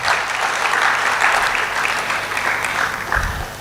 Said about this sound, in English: Shall we give them all a round of applause?